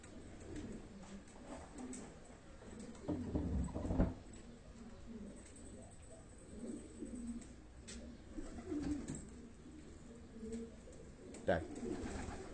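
Pigeons coo in short, low bursts around a bird-trapping setup, near and moderately loud, with a rustle of movement and occasional soft speech in between.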